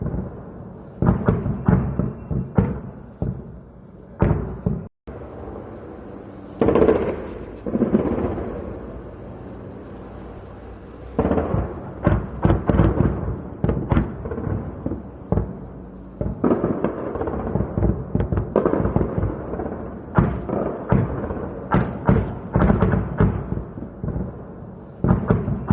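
Iranian Navy anti-aircraft guns firing at US or Israeli aircraft, a long run of loud, sharp bursts and booming reports in rapid irregular clusters with a few short pauses, echoing over a wide area and with no voices.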